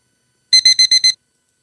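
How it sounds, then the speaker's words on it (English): An alarm sounds as five quick, evenly spaced electronic beeps in a short burst, loud and clear with silence before and after. "Alarm is working."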